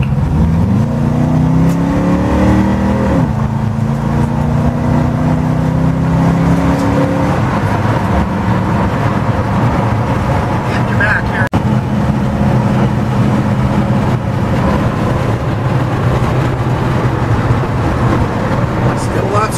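A vehicle drives along a road into a small town. A steady engine drone with rising pitch as it accelerates and shifts gears, plus constant road and wind noise, loud and close.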